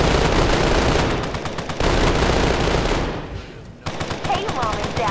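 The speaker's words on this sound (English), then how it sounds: "I guess it's automated turrets, right?" Automated turrets fire in Fallout 4 as a loud, dense burst of rapid machine-gun fire. The shots come in sustained volleys with a short break near the end, and a voice is faintly audible underneath.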